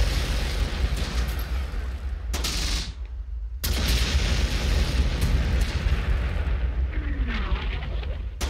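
Artillery fire in the WWII game Close Combat: The Bloody First, with heavy bursts and rumbling explosions repeating over a constant battle din, broken by a brief lull.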